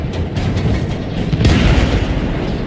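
A tank cannon fires in World of Tanks gameplay, with a deep, loud boom around the middle followed by a rumbling tail, set against continuous game background noise.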